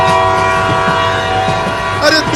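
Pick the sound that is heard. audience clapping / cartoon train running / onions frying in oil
cartoon train running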